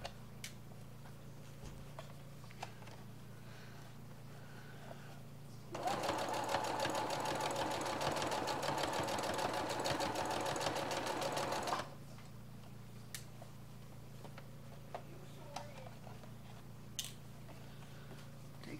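A home sewing machine back-stitches a Christmas craft project in one steady, fast whirring run of about six seconds, set between quiet stretches with faint clicks.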